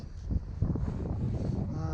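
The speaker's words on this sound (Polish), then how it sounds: "musimy trochę poczekać aż wiatr przestanie wiać" Gusty wind buffeting a microphone during fly fishing, a rough low rumble that swells and dips without any clear voices.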